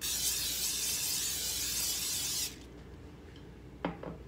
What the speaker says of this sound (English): Le echas el spray de vegetal o el spray de mantequilla